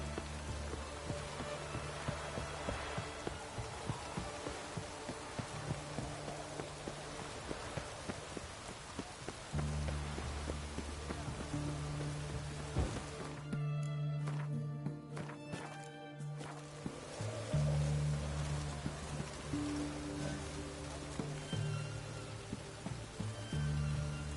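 Rain falls steadily in The Witcher video game, mixed with clip-clopping horse hooves and a layered game soundscape, with a brief denser burst partway through.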